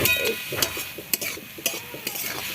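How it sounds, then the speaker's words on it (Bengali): Pea greens frying in a pan without water, a close sizzle broken by repeated spatula scrapes and knocks as the greens are stirred. "এবার শাকটা একটু ভাজা ভাজা হয়ে যাবে একদম তাহলেই হয়ে যাবে"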